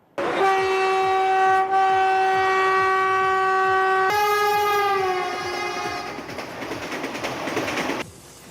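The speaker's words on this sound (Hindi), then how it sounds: "नई वंदे भारत का अहमदाबाद मुंबई के बीच ट्रायल रन किया गया" A Vande Bharat train on its Ahmedabad–Mumbai trial run blares a long, loud horn with steady tones that bend midway, over rhythmic clickety-clack of wheels on rail joints, then rushing passage noise.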